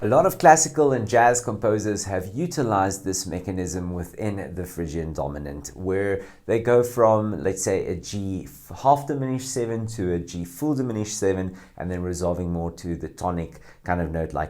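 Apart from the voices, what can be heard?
No everyday noises stand out.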